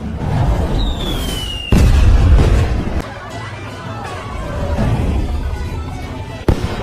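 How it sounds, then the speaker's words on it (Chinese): Fireworks pop and crack in sharp, scattered bursts, one whistling upward first, over a murmuring crowd in the distance. "烟花，放烟花呢！"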